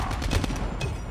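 Rapid, dense gunfire from the Call of Duty Mobile video game crackles close and loud for about a second, with overlapping bursts and no pauses.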